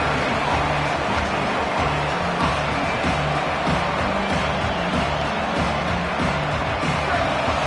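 A football stadium crowd at a college scrimmage roars in a steady, dense wash of noise, loud and continuous throughout.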